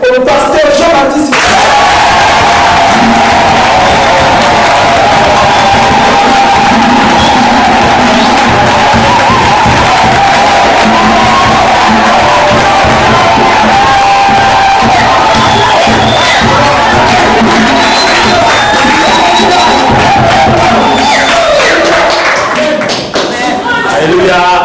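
A church congregation cheers and acclaims at length, a loud, continuous crowd roar with shouting voices and scattered clapping that holds steady for about twenty-five seconds.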